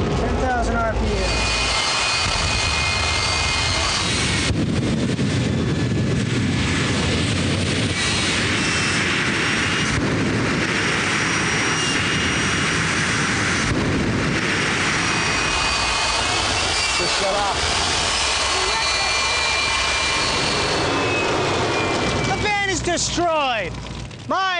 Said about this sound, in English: how do we turn the mega booster flame on?